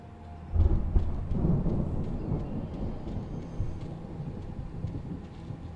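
A thunderstorm rumbles in the Alan Wake video game, with a deep roll of thunder swelling up early and then settling into a long, steady wash of rain and low rumble.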